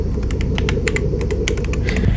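Rapid keyboard typing inside the horror video game Fears to Fathom, a steady run of crisp key clicks heard close and alone over a low background hum.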